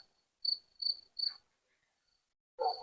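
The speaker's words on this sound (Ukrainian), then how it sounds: "Цвіркуни співають." Crickets chirp in short, bright bursts, three in quick succession, then a pause before another, with a faint rustle at the end.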